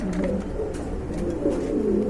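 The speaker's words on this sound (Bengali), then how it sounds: "এগুলো কিন্তু অনেক বড় সাইজের কবুতর" Large pigeons, a breeding pair kept for sale, coo steadily in low repeated throaty calls that run throughout at close range, with no talking.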